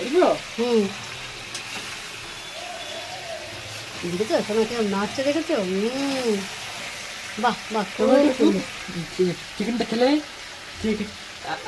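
Chicken frying in a pan, a soft steady sizzle running beneath frequent conversational talk between two voices.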